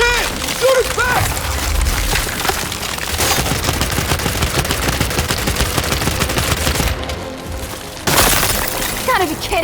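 Gunfire in Gears 5, a relentless stream of rapid shots and crackling impacts over deep explosive rumble, loud and close throughout, with a short lull before a fresh heavy burst.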